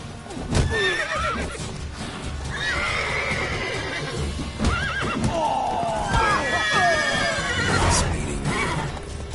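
Roach, the horse from The Witcher 3, neighs and whinnies repeatedly over galloping hoofbeats, with voices talking and shouting over the close, busy game action throughout.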